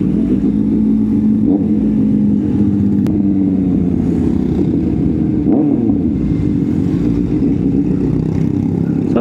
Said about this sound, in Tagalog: Sobrang basi ng Arrow exhaust, no?